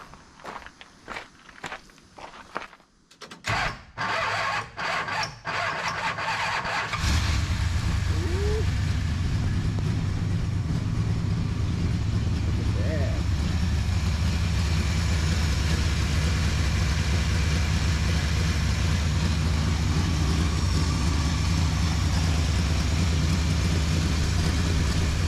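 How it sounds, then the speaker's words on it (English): A 1970 Dodge Coronet 500 with a 383 two-barrel big block and factory single exhaust cranks in several short bursts, then fires and settles into a loud, steady low idle. "Let's see if she'll crank over."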